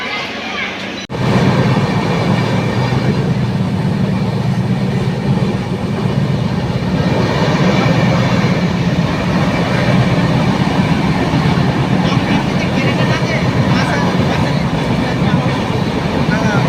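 An express train on the way to Mawa and the Padma Bridge runs at speed. A steady, loud rumble and clatter start abruptly after a brief quieter moment and continue throughout.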